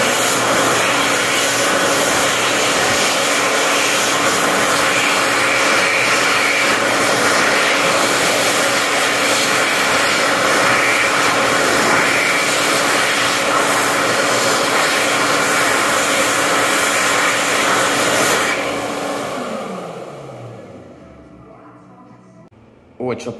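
An electric hand dryer in a Chipotle restaurant restroom blows with a loud, steady roar for about eighteen seconds, then winds down and fades out.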